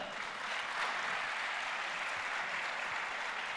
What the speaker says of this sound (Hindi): बहुत धीमी ताली है।